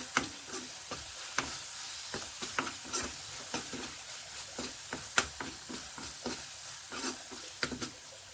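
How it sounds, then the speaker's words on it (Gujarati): Gram flour roasts in a thick onion and cashew gravy in a pan, giving a soft, low sizzle broken by frequent light scraping and ticking taps of a stirring spoon. "અડધી પોણી ચમચી ચણાનો લોટ એટલે ગ્રેવી જાડી થાય અને સેજ આમ શેકાઈ જાય અંદર ચણાનો લોટ"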